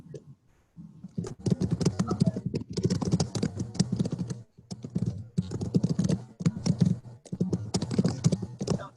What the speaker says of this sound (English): you need to mute because we can hear your fingers tapping